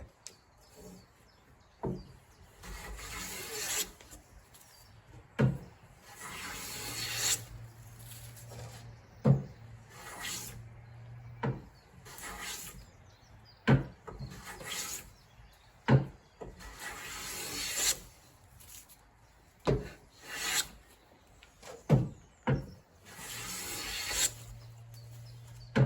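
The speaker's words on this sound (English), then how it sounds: "let's do that with the hand plane" A hand plane shaves wood diagonally across a board corner while squaring stock by hand, giving repeated short rasping strokes with brief gaps and knocks between them, close and moderately loud, with no talk.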